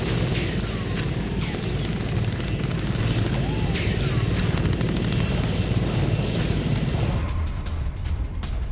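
A helicopter flying nearby, its rotor thumping in a fast steady chop under a constant engine whine, loud and sustained before the whine cuts off near the end.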